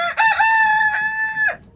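A rooster crows once, loud and close, a long harmonic call lasting over a second before trailing off.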